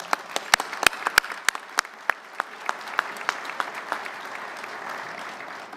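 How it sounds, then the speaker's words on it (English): Applause at a Coast Guard luncheon awards ceremony, starting with a few sharp close claps and filling into a steady wash of clapping from the room. "Round of applause."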